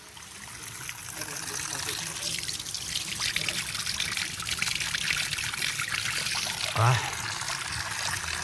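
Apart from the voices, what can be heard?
running water in Veria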